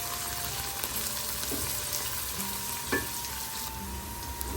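Chopped green chillies and onions fry in a pan with a steady, close sizzle and a few soft stirring scrapes, with no voices.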